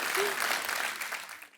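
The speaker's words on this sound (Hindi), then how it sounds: "आपकी जोरदार तालियों के बीच प्लीज वेलकम डैनियल" A studio audience on a comedy talk show claps to welcome a guest, a dense burst of applause that fades out over under two seconds.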